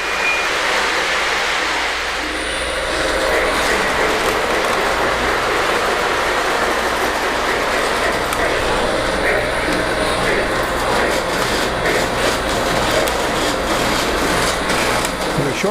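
A small Lionel electric train runs continuously along its track, climbing toward elevated track, with a steady rattling whir and rhythmic clicking, loud and close for the whole stretch.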